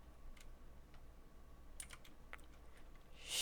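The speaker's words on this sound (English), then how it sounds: "see what I'm typing here" Soft, scattered keyboard taps click in short bursts against a quiet room hum, faint and close, without any speech.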